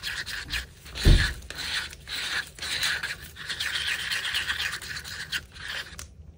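Resin is stirred and mixed in a cup with repeated close scraping and rubbing strokes at a steady rhythm, a single louder knock early on, and no talking.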